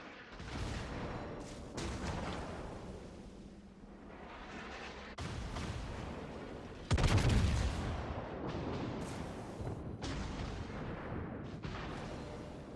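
Gneisenau's secondary batteries fire in a World of Warships naval battle, giving repeated booming gun blasts with rumbling tails in overlapping volleys. One heavier, louder blast comes midway.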